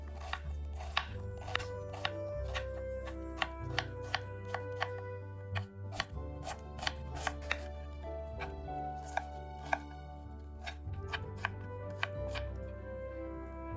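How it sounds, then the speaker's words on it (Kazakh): Two small onions are sliced coarsely with a knife on a cutting board, giving sharp, close knocks in an uneven rhythm over a low background hum, with no speech. "2 үлкен емес пиязды қатты майдаламай турай берсеңіз болады."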